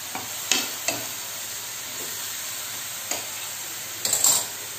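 Spices for stuffed bitter gourd (karela) roasting in oil over a medium flame, a soft steady sizzle broken by a few sharp spoon scrapes and clicks against the pan, with no talking.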